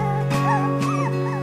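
Moyen poodle puppies whimper in a whelping-box nursery, thin rising and falling whines over a steady background hum, fairly close and continuous.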